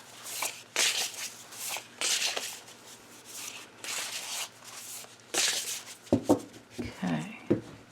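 Oracle cards shuffled by hand in a series of brisk riffling bursts, close and crisp, separated by short pauses, and a voice speaks near the end.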